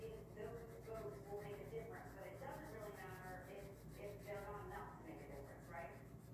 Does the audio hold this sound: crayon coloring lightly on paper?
yes